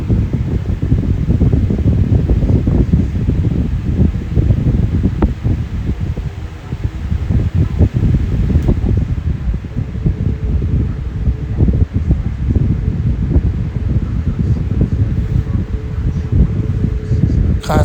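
A 1997 Lakewood 12-inch high velocity fan runs close by with a loud, steady broadband whoosh and a rough, rattly undertone that suggests worn thrust washers, lasting unbroken throughout.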